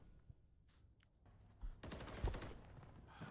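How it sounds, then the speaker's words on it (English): Gunfire in a video game match comes as bursts of rapid shots, faint at first and then louder and denser, with no talking over it. "there is gunfire going down because I can hear that"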